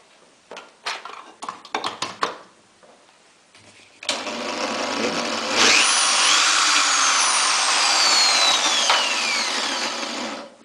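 Electric drill running on a basic electronics bench circuit, preceded by a few sharp clicks and handling knocks, then a loud steady high-pitched whir that spins up and runs continuously close by.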